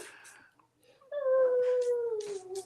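A dog whimpers briefly, falls silent, then lets out a clear, sustained howl that slowly drops in pitch, close and fairly loud, with faint talk around it.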